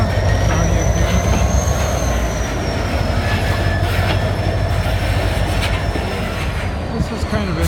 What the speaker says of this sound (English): There she goes, the train's going underneath the Blue Water Bridge.